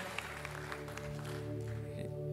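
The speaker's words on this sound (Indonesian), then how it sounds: "Boleh kasih tepuk tangan yang luar biasa Bapak Ibu Saudara sekalian." Applause from a church congregation during an Indonesian sermon, a soft, steady patter of clapping heard over a sustained musical backdrop.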